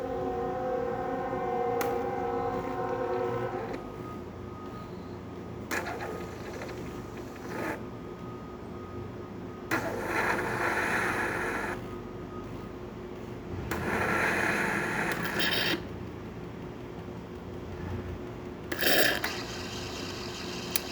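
A Saeco espresso machine froths milk cleaner drawn from its carafe, a loud steady hiss and whine running in long stretches, stopping and restarting in several bursts.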